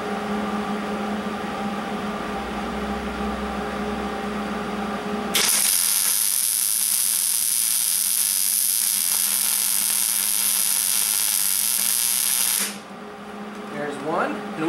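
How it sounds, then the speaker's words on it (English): MIG plug welding of existing holes in a 1967-72 Ford pickup frame: a steady, loud, continuous crackling buzz that lasts about seven seconds, with a lower hum before it and a brief tail after. "So let's plug weld these two existing frame holes."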